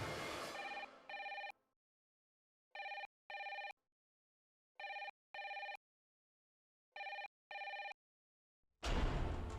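A telephone rings unanswered in a French-dubbed Indian TV series, sounding four paired electronic trills separated by silent gaps, clear and alone, with voices and music before and after.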